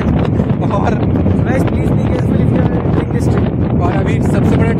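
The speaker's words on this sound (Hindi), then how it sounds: "बहुत खतरनाक हवा चल रही है यहाँ पे।" Strong wind roars across a mountain campsite at Harishchandragad near Kokankada during night camping, a loud, continuous buffeting on the microphone with voices partly buried beneath it.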